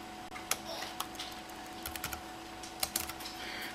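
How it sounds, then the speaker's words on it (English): Fingers tap a computer keyboard one-handed in an uneven run of quiet, close keystrokes, with short pauses between clusters over a faint background hum. "I am typing one-handed, so I have to excuse my speed here."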